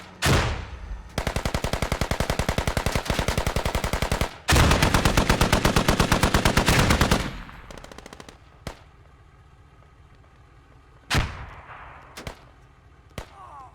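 Automatic rifle fire in the military shooter Squad rattles in two long, rapid sustained bursts, followed by scattered single sharp shots and a few distant cracks trailing off into quieter ambience.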